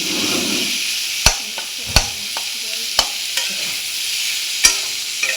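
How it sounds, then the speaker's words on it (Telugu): Boiled eggs fry in masala in a pan with a steady high sizzle, broken by several sharp clicks of a spatula stirring and scraping against the metal. "గోల్డెన్ బ్రౌన్ వచ్చినంత వరకు వేగించాలన్నమాట."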